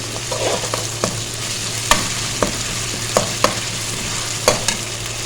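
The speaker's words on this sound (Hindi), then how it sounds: "अब हम इसमें डाल देंगे 2 टेबलस्पून अदरक लहसुन। इसको मिक्स करेंगे।" Ginger garlic paste being stirred into softened onions in a pan for Punjabi sarson ka saag: a steady sizzle under a low hum, punctuated by several sharp spoon clacks and scrapes at irregular intervals.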